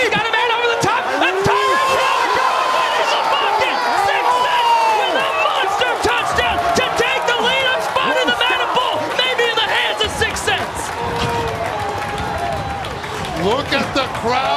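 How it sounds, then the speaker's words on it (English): Crowd at a Madden Bowl video game tournament event roaring and cheering continuously and loudly, with a commentator's excited voice over the noise throughout. "look at the crowd. They are going crazy."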